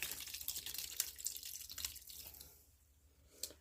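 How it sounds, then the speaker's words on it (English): Liquid milk fat is poured off while straining homemade butter whipped with an electric mixer. A soft, close trickle and dribble fades out into quiet drips near the end. "We're just going to pour off that milk fat."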